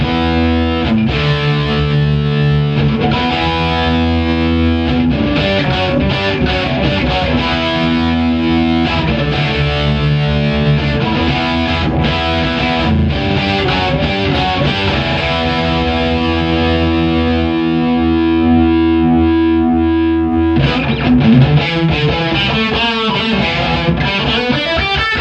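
Distorted electric guitar played through a Marshall JCM 900 4100 amp with reverb set at 2, loud sustained chords and ringing notes continuing for the whole stretch with a brief break and restart near the end.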